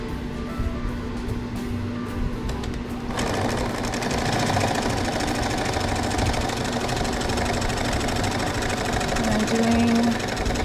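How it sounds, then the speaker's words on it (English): A sewing machine stitches binding onto a hot pad pocket, starting after a quieter stretch, then running loud and fast in a dense continuous whir to the end. "now I'm going to sew my binding on to the pocket, and I want to start with sewing it on the back"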